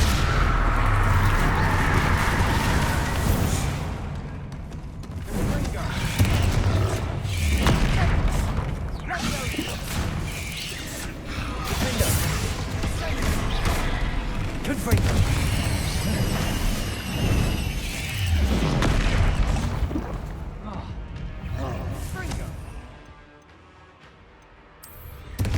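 Bombarda blasting spells go off in Hogwarts Legacy as a string of loud, booming explosions over dense game effects, with a voice talking at times.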